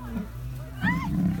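Lion giving a short low growl at close range while a woman rides and strokes it, a brief rumbling grumble rising at the end, heard under quiet background noise.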